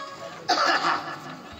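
A single sudden cough from a throat tickle bursts out partway through, loud and close, then fades into the quiet background of a Dangi tamasha folk performance.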